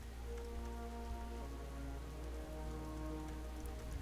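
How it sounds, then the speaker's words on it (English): Rainfall in the video game World of Warcraft: Dragonflight, a soft, steady patter of raindrops heard alone over a faint background music drone. "Oh, it's raining."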